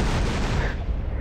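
A bomb goes off in GTA San Andreas, a loud, dense blast that fills the whole short moment and then begins to fade, with no voices.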